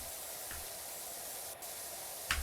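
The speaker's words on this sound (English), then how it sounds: "I think we're going to have to spray it, hose it down, and then get that there." Pressure washer spraying a car hubcap in PowerWash Simulator 2, a steady, even hiss of water spray running throughout at moderate level, with a brief click near the end.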